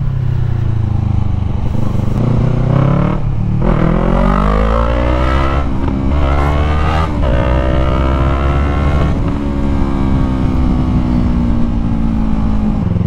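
A Yamaha MT-03 motorcycle engine revs hard at high RPM, its pitch climbing and dropping through several loud surges with a continuous droning tone close by.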